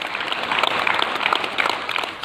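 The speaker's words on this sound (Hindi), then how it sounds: "ये ताली खुशियों की है" Hospital staff and onlookers applauding recovered Covid patients, a continuous crowd of clapping heard fairly close and steady throughout.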